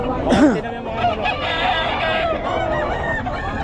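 A rooster crows once near the start, a rising-falling call, with chatter and crowd noise carrying on around it.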